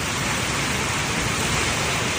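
Heavy golf-ball-size hail pounding down in Beijing, a loud, dense, unbroken roar of impacts with no distinct individual strikes.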